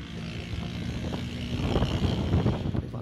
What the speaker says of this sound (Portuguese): Vou levantar mais aqui o drone.